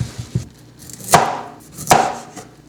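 A kitchen knife from a Yum Yum Utensils set chops through raw beets, trimming off tails and tops, with several soft taps followed by two sharp, close, evenly spaced cuts on a board.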